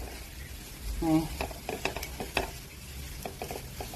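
Capsicum stirred and frying in a pan, a steady low sizzle broken by a few scraping stirs of a spatula, close and moderately quiet, with no talk.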